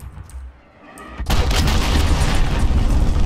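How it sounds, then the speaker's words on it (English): An allied cruise missile strike in Call of Duty: Modern Warfare detonates after a brief quiet lull, erupting into a loud, sustained rumbling blast with crackling debris that fills the rest of the moment. "Cruise missile, go for launch. Friendly UAV, allied cruise missile away."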